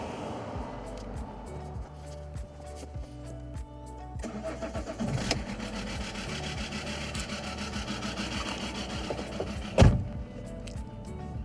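A 2.4 diesel car engine with a weak battery cranks on a jump-starter booster and catches, settling into a steady, loud clattering idle with a sharp knock near the end.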